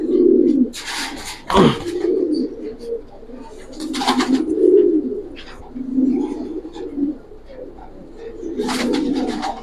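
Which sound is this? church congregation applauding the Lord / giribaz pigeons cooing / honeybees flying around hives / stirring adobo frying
giribaz pigeons cooing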